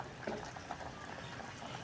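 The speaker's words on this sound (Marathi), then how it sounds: "बघा पाण्याला चांगली उकळी आलेली आहे." Water comes to a rolling boil in a pot on a kitchen stove, a faint continuous bubbling and hissing wash with no voices.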